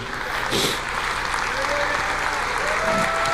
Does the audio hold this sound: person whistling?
no